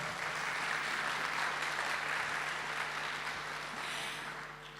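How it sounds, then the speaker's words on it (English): Audience at a Nissan Z employee event applauds in a steady, dense wash of clapping lasting several seconds, fairly distant and gradually tapering off at the end. "Another round of applause."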